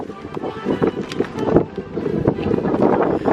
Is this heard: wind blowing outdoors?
yes